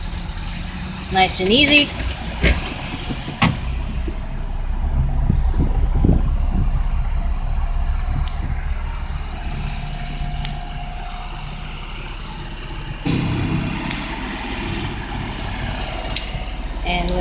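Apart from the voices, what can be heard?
1995 Daihatsu Hijet mini-truck engine starting and idling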